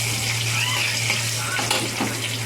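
Steady loud sizzling of spices frying in hot oil, a continuous crackling hiss filling the clip, with faint clinks of stirring.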